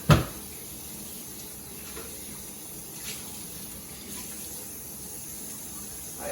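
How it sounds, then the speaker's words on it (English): Water runs steadily from a household tap into a sink, a soft continuous splashing hiss with a sharp knock at the start and faint clinks along the way, with no voices. "King loves running water"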